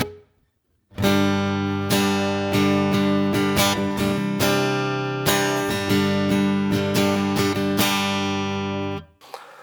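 An electric guitar plays a rhythmic chord pattern with a medium room reverb tail, ringing out and fading after the final strum.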